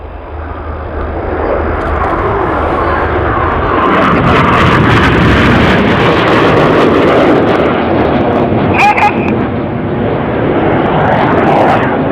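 Aerobatic display jet flying a break maneuver at Leuchars Airshow, a loud roaring rush that swells as the aircraft passes overhead and lingers as a broad rumble, heard outdoors from the crowd.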